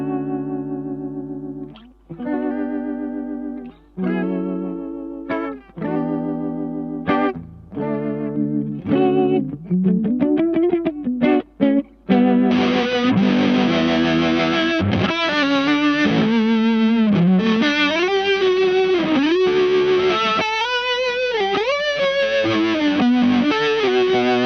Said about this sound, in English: In a polyphonic setting, the mod is kind of like sort of like a Leslie-esque kind of thing,